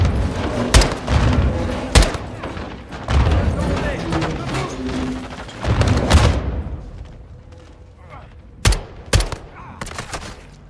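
Gunfire from the Call of Duty Modern Warfare 2 campaign, with repeated loud bursts and sharp single shots and blasts through the first six seconds, then a quieter stretch broken by a few more sharp cracks near the end.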